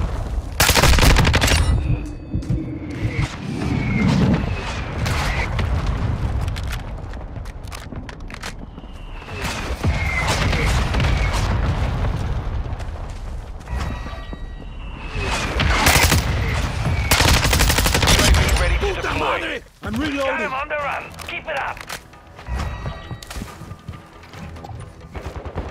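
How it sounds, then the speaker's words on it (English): Mortar strike in the shooter Call of Duty: Modern Warfare II, a loud sustained barrage of repeated blasts and gunfire bursts rolling through the scene, with dense crashing impacts and brief lulls between volleys. "Mortar strike."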